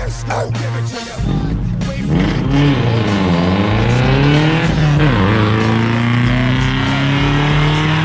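A car climbs the Mount Washington auto road through the White Mountains, its engine note rising and falling steadily as it accelerates and holds speed, loud and close throughout.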